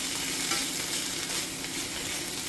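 Thin sliced marinated beef chuck short ribs (LA galbi) frying in a non-stick pan, giving a loud, dense, continuous close sizzle with faint stirring movement and no talking.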